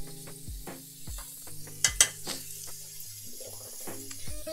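A hot frying pan of rice and minced beef gives a steady sizzle, broken by stirring and scraping noises and a couple of sharp clinks of utensil against the pan, close up and with no talking.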